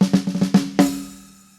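Drum fill of single drags played in a reggae feel: a run of quick grace-note-led snare strokes, then a final louder hit at the end that rings out and decays, close and alone without talk.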